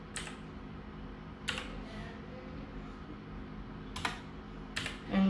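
Python code being typed on a computer keyboard: sparse, separate key clicks spaced a second or more apart, close and fairly crisp over a constant low hum.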